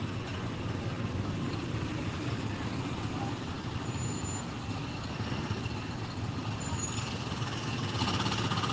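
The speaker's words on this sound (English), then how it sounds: "don't think I've ever heard brakes like that" Loud, hissing air-brake-like noise from a Disney World ride vehicle, broad and continuous with a faint high squeal at moments, heard up close among general park ambience.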